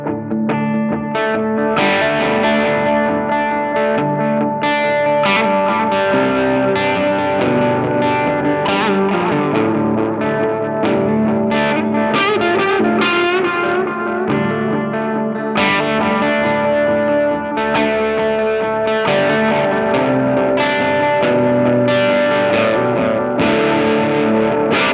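Electric guitar played through a Benson delay pedal: a dense, continuous run of loud picked notes and chords with repeating echoes trailing behind them, steady for the whole stretch with no talking.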